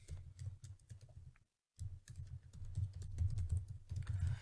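Typing on a computer keyboard: a quick, close, continuous patter of key clicks with a short silent pause near the start, and no talking.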